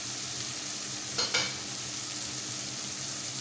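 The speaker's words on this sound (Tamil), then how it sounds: "வெங்காயம் தக்காளியும் நல்லா வதங்கணும்" Onion, tomato and coriander sauté in a pan for vada curry, with a steady sizzle throughout and a brief louder scrape of stirring in the middle.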